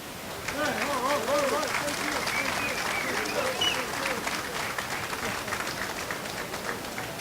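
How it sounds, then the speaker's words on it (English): Audience applause for the Auburn High School band at a city Flag Day celebration, steady clapping from a crowd with voices and cheering mixed in throughout. "let's give a round of applause for the incredible Auburn High School band"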